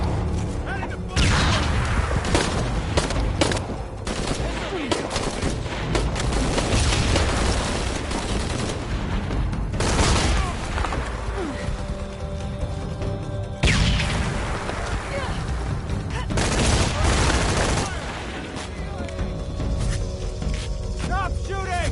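Heavy gunfire in Shadow of the Tomb Raider rolls on in dense, loud automatic bursts and booming shots with brief lulls, while voices call out beneath the shooting.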